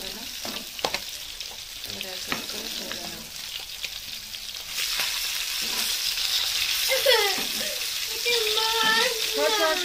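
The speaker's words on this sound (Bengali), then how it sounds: "মাছগুলো ভাজা হয়ে গেল," Pangas fish frying in oil, a continuous bubbling sizzle that grows louder midway, with scraping stirs and voices talking over it.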